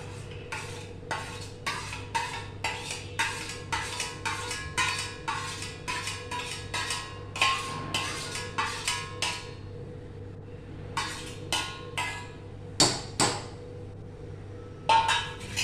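Sugar, cashews and raisins tipped into a pan of carrot halwa, giving a quick run of rhythmic clinks and scrapes of a spoon against the metal pan, then a pause and a few more sharp taps, close and fairly quiet.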